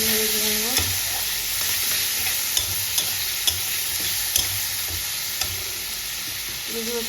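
Chopped tomato tipped into cabbage chorchori frying in a pan, a steady bright sizzle with soft stirring scrapes and a few sharp clicks of the spoon against the pan, no voices.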